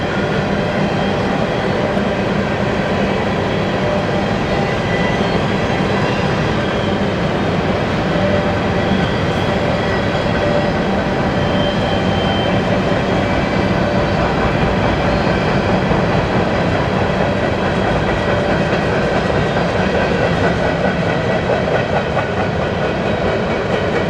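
A freight train rolls steadily past close by near the Canada–US border, a continuous loud rumble with clattering wheels and metallic rail noise throughout, no voices.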